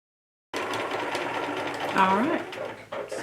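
A sewing machine runs in a steady fast stitching whir while sewing a summer hat, close and continuous after a short silent start, with a voice speaking over it.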